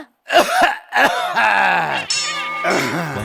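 A man's loud, harsh coughs come in close bursts, each rough and raspy, with brief gaps between them, in a stage comedy sketch set at an airport.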